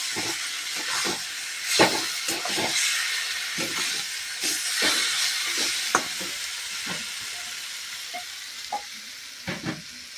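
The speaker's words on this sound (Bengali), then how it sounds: "ডিমের সঙ্গে মশলাটাকে ভালো করে একটু কষিয়ে নেব।" Fried duck eggs are stirred with spice masala and green chillies in a pan, a steady sizzle broken by repeated scraping strokes of a spoon, close and fairly loud.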